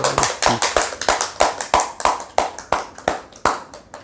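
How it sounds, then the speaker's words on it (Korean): Church congregation clapping in a steady, even rhythm, each sharp clap distinct and close, roughly three per second, with no voices over it. "감사의 박수를 드립시다."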